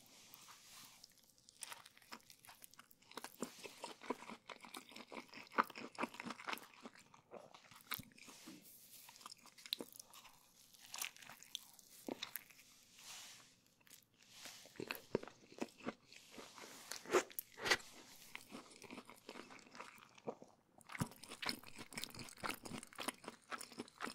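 Close, crisp crunching and wet chewing while eating a caramelized vegetable and fish burrito with chili peppers, irregular bites and chews repeating steadily with no talking.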